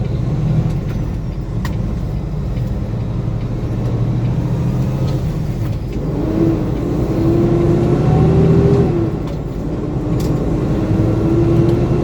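A car rolls past on a road with a steady low engine rumble and tire roar heard from inside a cab, the sound swelling and easing over about twelve seconds.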